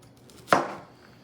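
A knife makes a single sharp chop through an onion on a cutting board, a crisp close thud that fades quickly against a quiet kitchen background.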